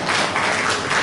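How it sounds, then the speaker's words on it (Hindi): An audience at an International Yoga Day gathering in a hall in Ratlam applauds to welcome a speaker, a brief steady wash of clapping filling the room without a break. "तो एक बार आप सभी जोरदार तालियों से भ्राता जी का स्वागत करें।"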